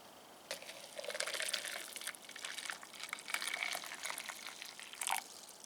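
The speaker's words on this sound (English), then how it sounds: "we'll just put some hot water in to dissolve it" Hot water poured into a jug holding calcium nitrate for feeding orchids, a quiet, close trickle and gurgle that runs unevenly with brief louder splashes near the end.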